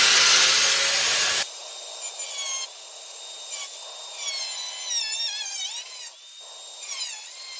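An angle grinder cuts into a Motobuilt boat side kit on a Jeep YJ: a harsh, loud grinding roar at the start, then a thinner, wavering whine as the disc keeps working.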